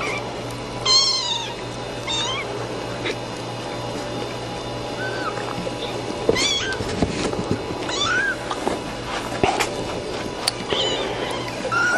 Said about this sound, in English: Oh, sure is lots of kitties.